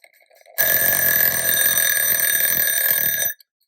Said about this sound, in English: then it will tick until it's time to go off.